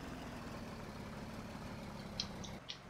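A vehicle engine idles in Farming Simulator 17, a steady low mechanical hum holding evenly throughout with a couple of faint clicks near the end.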